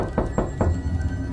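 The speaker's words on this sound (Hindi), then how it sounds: "इसलिए मैंने दोबारा नॉक किया" Three quick knocks on a room door, evenly spaced and close by, followed by a low, muffled room tone.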